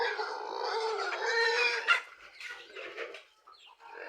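A flock of breeder chickens clucks and murmurs close by in a steady, overlapping chatter, with a few sharper squawks near the end.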